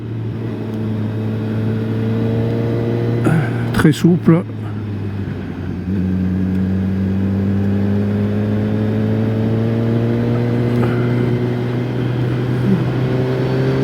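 A QJ Motor SRK 421 RR four-cylinder motorcycle engine hums steadily, with a brief sharp rise in revs partway through and a smooth, rising pitch afterward, while a rider speaks briefly.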